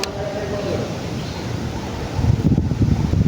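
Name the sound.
strong wind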